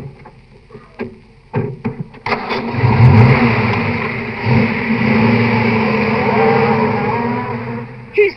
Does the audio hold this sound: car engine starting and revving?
yes